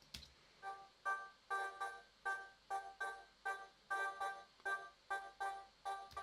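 A short, sharp arpeggiated vocal sample, sidechained through Retrolog and limited with L2, pulses in a steady chopped rhythm of clipped stabs with one longer held note, played alone and up close.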